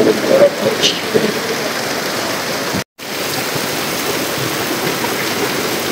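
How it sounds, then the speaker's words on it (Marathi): Heavy rain pours steadily in a broad hiss during a day of nonstop monsoon downpour with waterlogged streets, briefly cutting out midway, with faint voices in the background early on. "जास्तच जास्त पाऊस आहे आज"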